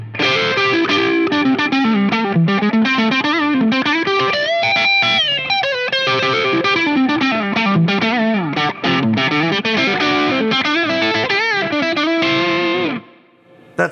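Electric guitar on a split neck pickup runs through a Buckaroo Engineering Bullwhip clean boost pedal with treble turned up, playing a continuous bright, driven lead phrase close and loud before stopping abruptly.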